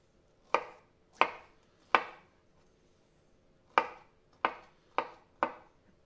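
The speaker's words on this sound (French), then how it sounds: "Je vais couper en deux dans ce sens-là." Seven sharp knife chops on a cutting board while cutting tomato, avocado and feta for an appetizer toast, each a crisp close impact, evenly spaced in two groups separated by a short pause, with no talk.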